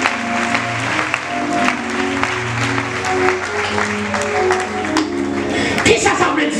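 A church congregation claps and cheers for the Holy Spirit, a sustained wash of applause under organ or keyboard chords and a preacher's voice, steady and fairly loud throughout.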